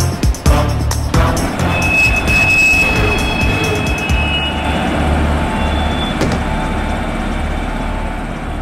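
Goods train running in an animated cartoon, a loud continuous rumble and roar of wagons on rails with a sharp clank at the start and faint squeal, steady for several seconds with no talk.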